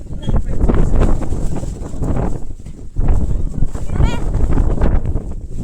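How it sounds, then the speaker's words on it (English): Heavy gusts buffet the microphone in rough, rumbling surges, broken by a short lull and then resuming strongly. "Very windy though."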